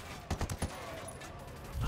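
Gunfire in the Ghost Recon Wildlands video game, several quick bursts of shots clustered close together, loud against a steady game background.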